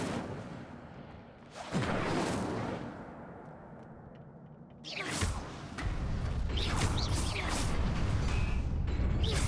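An Incendio fire spell is cast in Hogwarts Legacy, a loud rushing whoosh of flame that bursts in twice and sustains with a roaring crackle over a low ambient rumble.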